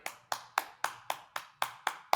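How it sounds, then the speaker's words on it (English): Quiet golf clap on a golf course: nine soft, evenly spaced hand claps at a steady, unhurried rhythm, close and gentle with nothing else heard. "this is what's called a golf clap. Clapping quietly on a golf course."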